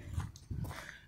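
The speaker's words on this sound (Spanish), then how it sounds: "Perros." Dogs heard at a house while walking outdoors, a couple of short, muffled barks or yelps at a moderate distance, fairly faint.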